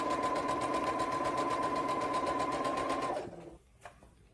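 A sewing machine stitches steadily through a toddler bag, a fast even whirr running for about three seconds before stopping, followed by a faint click.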